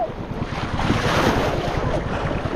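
Sea waves surge and wash continuously with strong wind noise buffeting the microphone, a loud, steady roar without voices.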